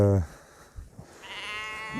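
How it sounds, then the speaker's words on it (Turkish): Sheep bleating at a nomadic herders' overnight camp on a migration route, one loud close bleat at the start and another fainter call later, with someone talking and low background noise. "Koyunlar bu gece burada yatacak."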